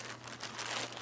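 Plastic packaging of a 2014 Netherlands 24-hour combat ration crinkles in a brief, close, continuous rustle with no talk.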